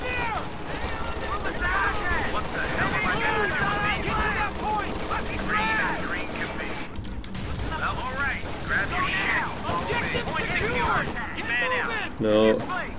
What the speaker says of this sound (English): the MG's gonna get me.